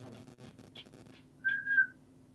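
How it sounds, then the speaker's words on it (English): A person whistles at animals: a brief clear two-note whistle, near and distinct, following a quiet stretch of faint background chatter. "you whistle at them and they think you're like talking"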